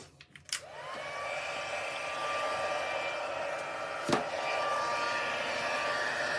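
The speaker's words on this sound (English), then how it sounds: "So let's bring in our heat tool." An electric heat tool blows steadily to melt embossing powder on a handmade folded card, a continuous close whooshing hum that starts after a few clicks and runs to the end with one brief bump midway.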